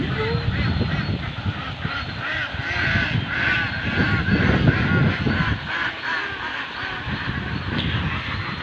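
Domestic ducks on a Philippine duck farm quack in a dense, continuous chorus, many birds calling at once close by, with a faint voice underneath.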